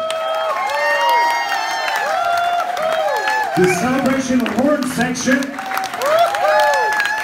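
Audience applause and cheering for a live band at a tribute concert in Luxembourg, rising under brass-heavy music, with an announcer speaking over the crowd.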